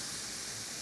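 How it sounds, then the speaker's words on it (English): Roux sizzling in a pan, a dense, even hiss that holds steady and fairly quiet for under a second, with no voices over it. "Hear that sizzle?"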